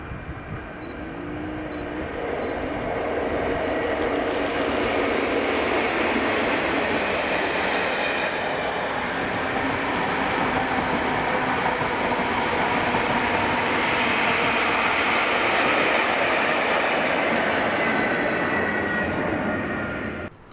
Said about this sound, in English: The train 1Z30, 1232 from Glasgow Central to Barassie, with now 87002 leading